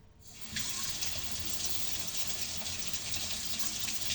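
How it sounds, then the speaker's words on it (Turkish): Tap water runs steadily into a kitchen sink while something is rinsed under it, a close, constant gushing hiss that starts abruptly and carries on alone. "Şöyle yıkıyorum."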